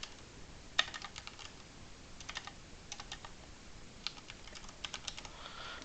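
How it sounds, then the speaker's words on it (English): Keys clack on a computer keyboard in short bursts of typing, light and close, with brief pauses between clusters of taps in an otherwise quiet room. "So if I type in Thomastown"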